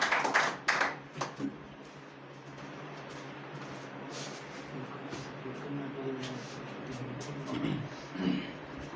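A few loud hand claps from a small class audience in a spoken English class on Teacher's Day, followed by quieter scattered clapping and murmur from the room.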